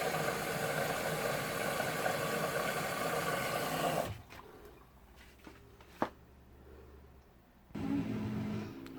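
A new washer dryer running its wash cycle, a loud steady mechanical churning and rumble that stops abruptly midway, leaving quiet clicks and a short thump before the motor drones back in.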